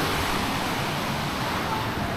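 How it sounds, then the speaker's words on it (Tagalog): Ocean surf rolls in at a rocky cove near Lian, Batangas, at high tide, a steady full-band wash of breaking waves with no distinct crashes, fairly loud and continuous throughout. "Lalaki ng alon. High tide pa lang ngayon."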